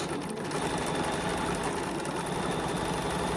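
A sewing machine stitches a quilt block with a continuous, loud, close mechanical whir and rapid needle rhythm that holds steady throughout.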